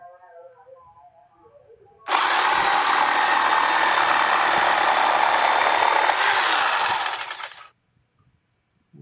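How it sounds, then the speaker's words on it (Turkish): A Piranha scroll saw cuts through pine wood with a loud, steady buzzing drone that starts abruptly, holds for about five seconds and then stops, leaving near silence. "Şu şeyi keselim. Çam ağacını."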